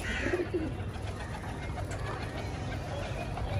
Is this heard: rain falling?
no